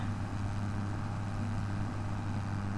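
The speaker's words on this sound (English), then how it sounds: "Ford tractor with a blue Kinsey planter." A Ford tractor from Farming Simulator 25, hitched to a blue Kinsey planter, holds a steady low engine drone with no changes in pitch or level throughout.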